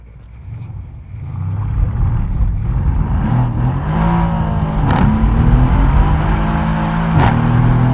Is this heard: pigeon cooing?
no